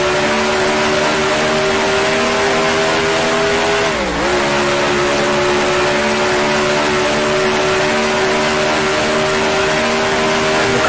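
A 1966 Formula One car engine revs hard and steadily through the gears in Grand Prix Legends, a loud, sustained buzzing whine with a brief dip in pitch at a gear change before climbing again.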